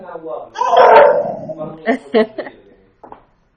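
A dog barks indoors during a home livestream, giving a loud yelp-like burst followed by a few short sharp barks and a faint final yip, close to the microphone.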